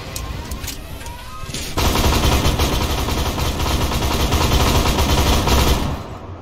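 Sustained rapid autocannon fire from a VBL armored vehicle in the video game Armored Warfare, loud and continuous, a dense rattling barrage that ramps up after a quieter opening and holds steady before cutting off.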